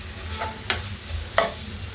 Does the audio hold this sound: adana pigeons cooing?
no